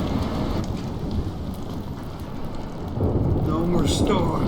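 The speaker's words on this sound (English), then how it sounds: "No more storms." Heavy rain pours steadily in a Life is Strange storm, close and dense, while low rumbling thunder rolls beneath and swells louder near the end.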